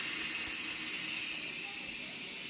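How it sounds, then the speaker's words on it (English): Steady loud hiss of steam venting from a pressure canner, continuous and close, easing slightly toward the end. "once the steam has completely exhausted, we can open the lid"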